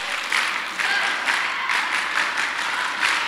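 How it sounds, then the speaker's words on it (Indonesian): An audience at a business leadership seminar claps the rhythmic Indonesian 'tepuk semangat' spirit clap, bright bursts of many hands repeating in a steady patterned beat, fairly loud and close with no talking over it. "Tepuk semangat!"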